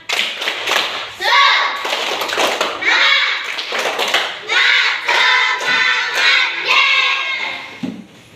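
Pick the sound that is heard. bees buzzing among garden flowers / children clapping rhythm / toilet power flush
children clapping rhythm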